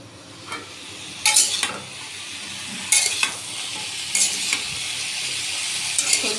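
Vegetables with salt and turmeric sizzle steadily in a pan, broken by several sharp scraping stirs of a spatula against the metal, nearby and without speech.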